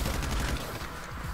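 Gunfire in the video game GTA 5 Online: a dense, continuous spatter of rapid shots, moderately quiet and steady across the whole short stretch.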